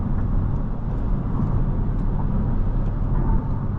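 Steady, muffled drone of a 2024 Honda Civic Sport engine accelerating, heard from inside the cabin with road noise underneath and no talking.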